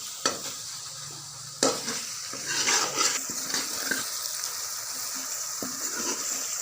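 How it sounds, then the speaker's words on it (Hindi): Turmeric stirred in a hot frying pan for a bottle gourd and chana dal dish, a spoon scraping and clinking against the pan over a bright continuous sizzle, with a few sharp knocks near the start. "अब हम इसको हिलाएंगे।"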